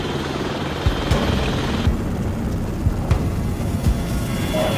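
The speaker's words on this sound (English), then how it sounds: "aboard an MH-60 Blackhawk helicopter then conduct a helocast insertion into the channel" An MH-60 Black Hawk military helicopter flies over a channel during a special forces demonstration, its steady rotor thrum and turbine whine continuous and fairly loud, with no voices.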